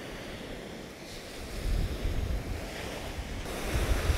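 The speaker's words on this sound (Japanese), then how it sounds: "はい、じゃあ反対側向けて波の音撮ってみます。" Ocean waves wash onto a beach with a steady broadband rush that swells toward the end, picked up on a Shure MV88 microphone fitted with only its stock foam cover. Some wind buffets the mic, and no voices are heard.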